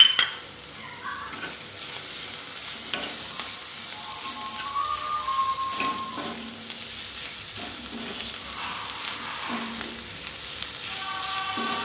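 Dried fish and plenty of onion fry and sizzle in an open pan while a spoon stirs and scrapes against the metal, with a steady crackle and intermittent clinks close by.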